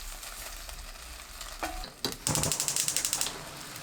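Minced garlic, anchovy fish sauce, soy sauce, mirin and syrup stirred into a pot of crunchy green peppers off the heat. Quiet rustling gives way to a run of quick, rhythmic scraping strokes near the end, with no voices.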